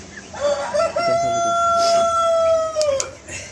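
A Colombian Brahma rooster gives one long, loud crow up close, with a few short clucks just before it.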